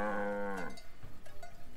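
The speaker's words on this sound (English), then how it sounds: "Is that a cow?" A cow moos once with a long, loud, harmonic low call that cuts off after about three-quarters of a second, followed by quieter background noise.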